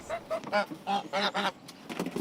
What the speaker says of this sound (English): 4 geese running around loose